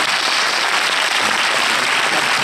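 Audience applause at a film premiere for Les Tuche 2 - Le rêve américain, a dense, steady wash of clapping hands filling the room without a break.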